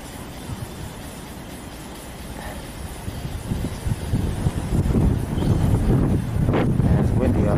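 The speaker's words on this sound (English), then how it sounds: "it's windy out here" Gusty wind rumbles and buffets the microphone on a New York City street at 109th Street and Madison Avenue, growing louder and rougher over several seconds.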